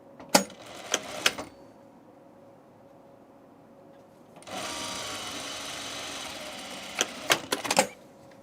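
A sewing machine runs a 3/8 inch seam on a tunic: a few sharp mechanical clicks and taps, a quiet pause, then a steady whirring stitch run of about two and a half seconds, ending in more clicks.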